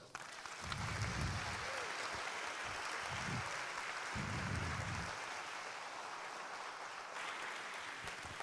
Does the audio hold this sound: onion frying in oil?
no